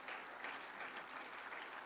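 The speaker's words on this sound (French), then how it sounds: "Un groupe, oui, vous pouvez l'applaudir, ce sont nos amis." A political rally audience applauds, a faint, distant wash of steady clapping lasting under two seconds.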